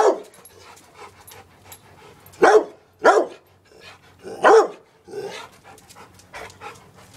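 Dog barking indoors during a flashlight chase game, several sharp close barks spaced a second or so apart with quieter panting and yips between them.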